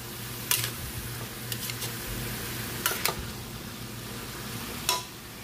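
Cabbage is stirred in a frying pan with a spatula, giving a steady low sizzle broken by several sharp scraping clicks against the pan, spaced irregularly, close and moderately loud.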